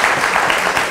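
Brief burst of audience applause at a school quiz competition, dense clapping heard alone for about a second.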